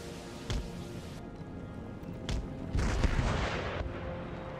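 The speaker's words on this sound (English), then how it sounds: "Excellent rocket artillery fire." Rocket artillery firing in the video game Empire: Total War, a few sharp booming blasts with a longer rushing burst, set against a constant battlefield din at moderate distance.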